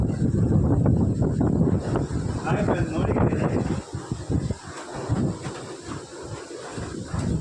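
Strong wind buffets the microphone with a loud, continuous low rumble that eases slightly partway through.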